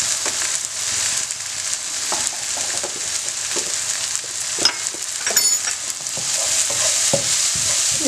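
Chicken biriyani masala seasoned with black pepper and curry masala powder sizzles in a pan while a spoon stirs and scrapes it in irregular clacks, close and fairly loud, with no talking.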